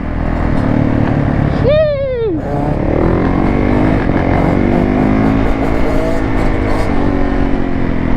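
A brand-new 2022 85cc two-stroke big wheel dirt bike engine drones loudly and close, with one sharp rising-and-falling rev whine early on, then a steady buzzing run.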